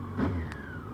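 A motorcycle engine runs after its starter motor was rebuilt with new bushings and re-glued magnets, giving a close, steady mid-pitched hum with a brief lift in revs near the start.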